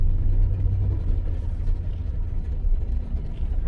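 A Chevy Suburban in four-wheel drive gives off a heavy, steady low rumble with a droning, boat-like undertone, loud and continuous, with no talk.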